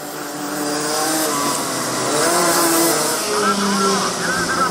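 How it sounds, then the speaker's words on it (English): Rotax Max racing karts at a national karting championship, several karts battling closely on track, their engines droning and rising in pitch as they pass, loud and continuous with a commentator talking over them. "three karts battle it out for P2 and P3."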